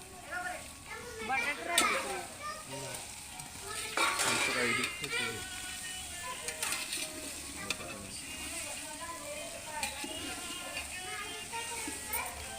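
Spices, tomatoes and vegetables sautéing in a pan for veg biryani, a steady soft sizzle with spoon scrapes and clinks against the pan, under Marathi talk while children's voices chatter in the background.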